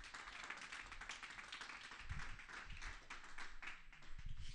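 A church congregation claps for God during a Spanish-language sermon, scattered, moderately faint applause with a few heavier low thumps partway through.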